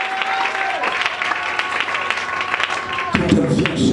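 A church congregation bursts into sustained applause and clapping, loud and crowd-wide, with voices and shouts mixed through it and a sharp shift in the noise near the end.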